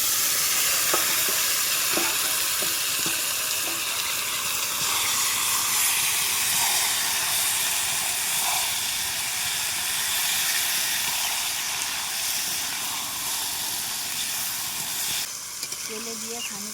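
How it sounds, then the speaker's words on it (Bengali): Spice-marinated meat for a young jackfruit curry fries in hot oil with a loud, steady sizzle that runs the whole time, a few utensil clinks near the start, and the hiss shifting abruptly near the end. "মাংসটাকে তেলে দিয়ে দেবো।"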